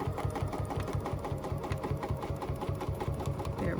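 Sewing machine stitching a seam on an embroidery sampler, a rapid, even mechanical whirring with a steady pulsing rhythm, continuous and close throughout.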